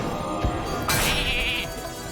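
A sheep's bleat rings out in the Hearthstone card game after a minion is transformed into a sheep, following a short thump, with a sustained wavering tone over steady game background.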